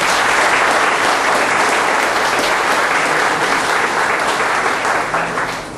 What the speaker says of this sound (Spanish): Yo pido un aplauso para él.